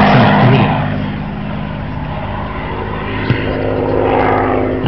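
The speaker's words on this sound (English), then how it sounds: "And the P-51 Mustang" A P-51 Mustang flies over at the Duxford autumn air show with a loud, steady propeller drone that swells slightly at the start and end, and a brief click partway through.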